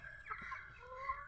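Chickens clucking near a coop where young chicks are kept, a few soft, short clucks that sound faint and close-ish in a brief quiet moment with no talking.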